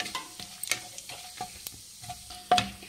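Whole spices and bay leaves frying in hot oil for restaurant-style chicken masala, a soft steady sizzle broken by stirring scrapes and clicks, with a sharper clatter near the end.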